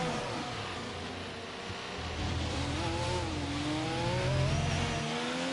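An F1 car engine in F1 22 winds up through short-shifted gears into 4th and 5th, a loud near revving tone that climbs, dips at each shift and climbs again.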